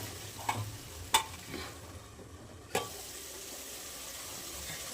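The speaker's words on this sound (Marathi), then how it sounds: "चांगला परतून घेऊयात मसाला आपण." Masala for an egg curry is sautéed in a pan, with a few sharp spoon scrapes and knocks against the pan over a faint, quiet sizzle.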